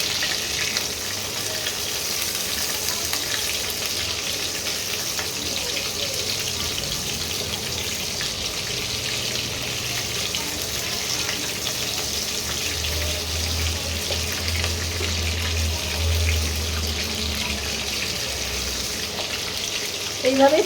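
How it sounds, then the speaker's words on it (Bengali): Prawns frying in oil in a home kitchen, a continuous even sizzle and crackle that holds steady and fairly soft throughout, with faint background clatter. "এইভাবে চিংড়ি মাছগুলো ভাজতে হবে"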